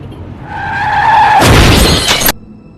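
Car crash in a film: a tire skid squeal rises and then gives way to a loud, close impact with shattering glass and crunching metal, cut off abruptly into quiet.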